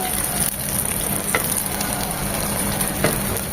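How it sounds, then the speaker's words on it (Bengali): Beef kabab fries on a tawa over high heat, giving a loud, steady, close sizzle that continues without a break, with faint scrapes from stirring and no talking. "কারণ এই বিফটা থেকে কিছুটা পানি ছাড়বে এটা দু মিনিট হাই হিটে কুক করে নেব"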